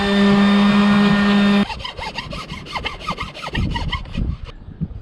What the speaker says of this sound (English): I'm just going to do a little bit of sanding